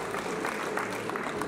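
Audience applause at a festival closing ceremony, a steady wash of clapping from a crowd that holds even throughout, moderately loud with no distinct voices standing out.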